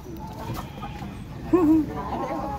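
Chickens cluck amid a busy background murmur at a market, with one louder hen call standing out midway, fairly close.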